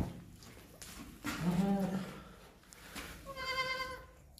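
A male goat of a good, long-bodied breed bleats twice, one wavering call and then a second after a short pause, close by and fairly loud.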